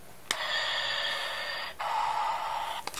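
A Darth Vader toy mask gives a mechanical, hissing breath, one long inhale followed by a long exhale, close and clear with a click before it and faint handling noise at the end.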